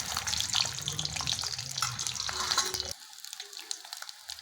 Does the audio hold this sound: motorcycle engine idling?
no